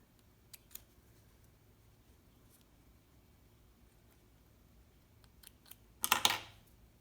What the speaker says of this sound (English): you want to cut the thread flat up against the fabric